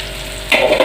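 One green and one ripe chilli drop into a hot oiled pan for prawn masala curry, a sudden sharp sizzle bursting up after a quiet start and crackling loudly in short surges.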